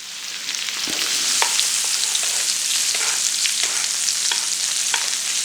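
Steak frying in a hot pan with butter gives a steady, close sizzle and crackle. Light stirring or basting clicks run through it, with no talk.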